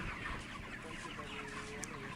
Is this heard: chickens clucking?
yes